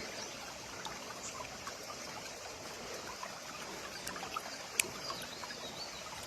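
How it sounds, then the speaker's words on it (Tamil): Steady, gentle rush of water flowing along a village irrigation channel, continuous and fairly faint, with a few small splashes and clicks. "வாய்க்கால் தண்ணி போயிட்டுருக்கு"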